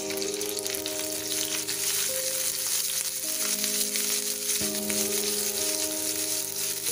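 Sliced ginger and a few basil leaves fry in hot ghee, giving a steady, close sizzle with soft crackle that runs unbroken throughout, with no talking.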